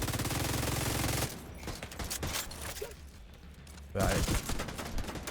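Rapid rifle fire in The Division 2 rattles in dense, fast bursts, loud at the start and again near the end, with sporadic shots and a voice briefly speaking between them.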